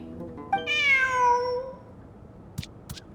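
A cat character meows in the Genshin Impact video game, one long drawn-out meow followed by a few soft clicks, alone and close.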